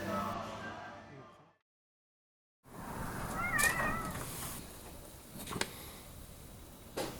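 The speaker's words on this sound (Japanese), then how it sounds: "パイネグランデに向かう朝は猫の鳴き声で目を覚ましました。" A resident cat meows at a hostel in Patagonia near Torres del Paine in the early morning, a few clear mid-pitched cries rising over soft room noise after a brief pause, with some earlier voices and movement.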